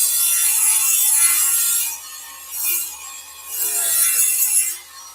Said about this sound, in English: we'll run sander across the two pieces that got cut.